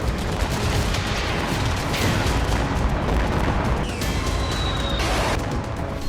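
Explosions and gunfire from war footage in Lebanon: a dense, continuous barrage of loud booms and shots with crashing noise throughout and no clear pauses.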